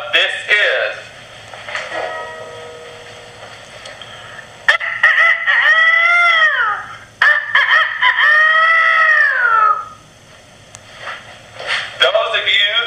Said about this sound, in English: Those of you who guessed it's a rooster, you're right.